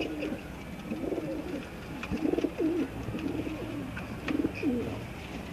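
Blue Kamgar pigeons coo in repeated soft, rolling phrases, close by and moderately loud over a low background hum, several calls overlapping with no talking.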